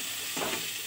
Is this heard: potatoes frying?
yes